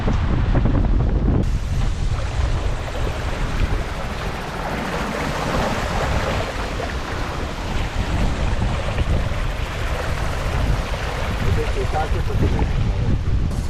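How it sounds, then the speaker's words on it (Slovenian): A sailboat drives fast through rough open water off Vanuatu in wind above 30 knots, with loud continuous roaring gusts buffeting the microphone and rushing waves underneath throughout. "Imamo skozi čez 30 vozlov vetra, tako da lepo plujemo hitro"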